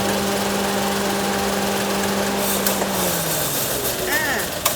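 A Suzuki Celerio engine idles roughly with one cylinder unplugged and a steady droning hum, then its pitch sags and the engine dies toward the end.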